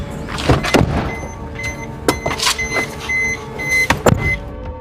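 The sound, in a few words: car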